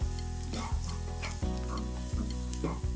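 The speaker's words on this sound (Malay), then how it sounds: "Sekarang, masukkan bawang putih cincang." Minced garlic sizzles steadily in a hot frying pan while being stirred, a close, constant crackling hiss broken by a few scraping strokes of the utensil, with no voices.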